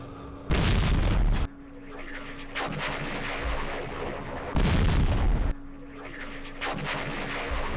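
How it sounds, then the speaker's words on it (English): Artillery firing in a Middle East wargame, heard as two heavy booming blasts a few seconds apart, each followed by a long rumbling roll and distant crackle under a steady background hum. "Let's direct fire with our artillery."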